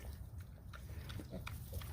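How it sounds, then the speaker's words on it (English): Small pigs grunt and snuffle close by in a backyard pen, soft low grunts running steadily throughout under a quiet outdoor background. "Cute little pigs."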